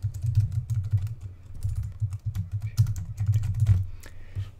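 Someone types a file name on a computer keyboard, close and clear key clicks coming in quick irregular bursts with short pauses, no voices.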